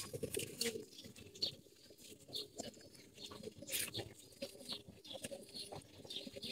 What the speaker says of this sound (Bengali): লাল গেড়ে কবুতর